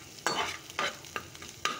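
An egg fries in a pan at home: four soft, evenly spaced spatula scrapes over a faint, low sizzle, heard close with no voices.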